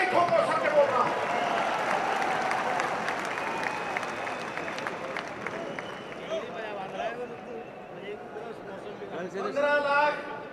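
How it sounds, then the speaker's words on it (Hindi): A large audience at a Congress party convention claps and cheers in sustained applause, with crowd chatter and a speaker's amplified voice running through it. "ठोको ठोको ताली ठोको"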